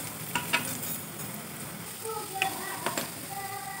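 Cumin seeds and ginger-garlic paste frying in hot oil in a kadhai give a constant bright sizzle, with a few spoon scrapes and light clinks scattered throughout, close and fairly quiet.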